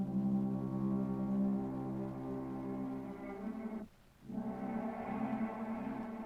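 A soft, sustained processed cello pad drones with layered harmonic tones, briefly dropping out for a moment before swelling back in.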